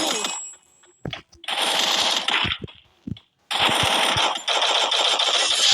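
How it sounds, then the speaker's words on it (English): Rifle fire in a video game, heard as loud, close bursts of rapid automatic shots separated by short silences and a few isolated single cracks. "Let's try using the rifle."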